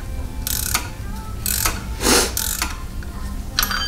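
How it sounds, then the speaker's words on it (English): A ratcheting wrench turning during a vacuum pump delete, giving several short, loud bursts of ratchet clicking close by, with brief pauses between strokes. "This is ratcheting. There we go. Okay. Ratcheting wrench."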